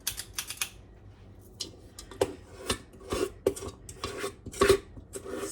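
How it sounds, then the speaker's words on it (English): A spatula scrapes sugar cookie dough out of a mixing bowl, giving irregular scratchy strokes and light clinks in short bursts with quiet gaps between them. "that scraping sound is annoying"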